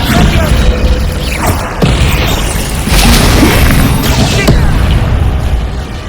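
The Descendo spell in Hogwarts Legacy lands as loud, repeated booms and crashes, with heavy impacts layered over dense battle noise throughout.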